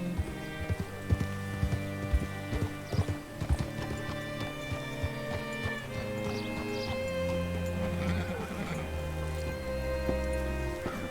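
Horse hooves in Red Dead Redemption 2 clip-clop at an irregular trotting pace over a droning musical background. The steps are clear at first, then blend into the swelling music.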